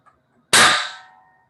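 A single sharp, loud explosive bang from a small hydrogen-oxygen mixture igniting in a lab, cracking out of near silence and ringing briefly as it fades.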